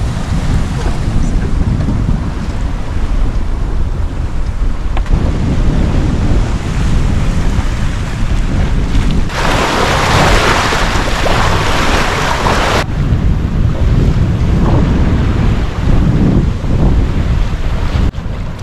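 Strong wind buffets the microphone while waves wash against the hull of a sailboat heading out of Halifax Harbour on a north wind, a steady loud rush with a brighter surge partway through and no talking.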